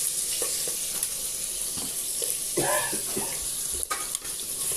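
Chicken frying in oil in a pan, stirred with a utensil: a steady hiss of sizzling with scraping strokes and light metallic clinks against the pan, close and continuous.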